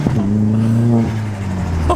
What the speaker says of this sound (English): the best part about a turbo is the noises it comes with